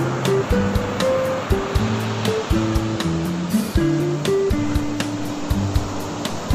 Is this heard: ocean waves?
yes